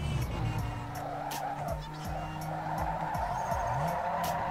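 Cars drifting in the street racing game Need for Speed Underground 2, with engines revving and shifting through repeated rising and falling sweeps while tires squeal continuously, fairly loud and close.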